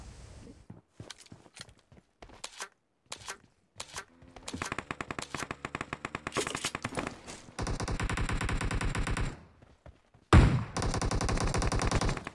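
Video game gunfire from a DBS shotgun and other weapons, in sharp separate shots at first, then dense rapid bursts of loud firing, with a final heavy blast near the end.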